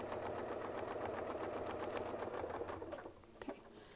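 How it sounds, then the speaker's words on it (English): Sewing machine stitching a quarter-inch quilt seam, a fast steady run of needle clatter close by that slows and stops near the end, followed by a couple of faint clicks. "we'll just sew right out to that space"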